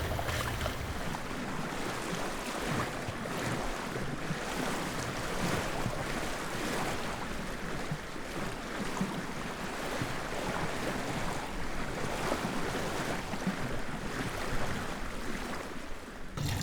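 A sailboat under way in the quiet waters of a Canadian coastal archipelago, with continuous washing waves and steady wind buffeting the microphone, all at an even level and with no voices.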